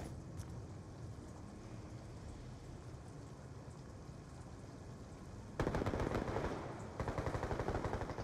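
Shotgun fire in a Search and Destroy match of an online shooter video game: rapid, loud repeated blasts burst in near the end over a steady noisy game background.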